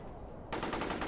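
Close-range automatic gunfire in a war film set at an Indian Army bunker, a sudden dense burst of rapid shots that begins midway and continues loudly to the end after a quieter lead-in.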